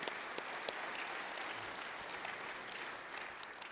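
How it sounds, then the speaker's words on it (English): An audience at an afternoon general session on Blueprint Nebraska claps for honorees in a sustained, even round of applause, dense and steady throughout with a few sharper individual claps standing out. "Please give them all a round of applause."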